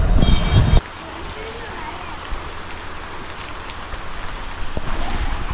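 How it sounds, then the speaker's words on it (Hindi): Heavy rain pours down outdoors with a parked scooter getting soaked, a steady, dense hiss of drops close by that follows a brief burst of louder sound and continues unbroken to the end. "इधर पड़ने लगी तेज़ वाली बारिश, और अपनी स्कूटी यहीं नहा धो रही है"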